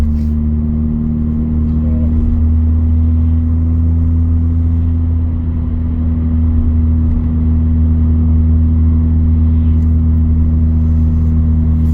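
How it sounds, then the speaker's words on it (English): A car with a loud cat-back exhaust cruises on a road in Scotland, giving a steady, deep droning rumble from inside the cabin that holds constant for the whole stretch with no voices over it. "I like loud exhaust anyway"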